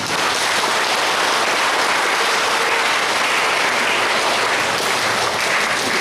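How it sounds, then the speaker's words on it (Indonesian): Parish congregation at an Ash Wednesday evening Mass claps for everyone, a loud continuous wash of many hands applauding in a reverberant church, unbroken throughout. "kita beri tepuk tangan untuk semua"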